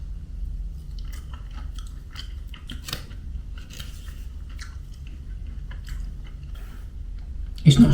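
Fries dipped in pommes frites sauce being eaten at a McDonald's in Paris, with close, soft crunchy chewing and bites running steadily under light background noise, ending in a louder burst.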